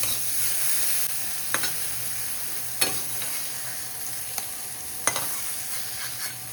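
Potato cubes with salt and turmeric sizzle in mustard oil, a soft, steady frying hiss punctuated by several sharp clicks and scrapes of stirring at irregular intervals, with no talking.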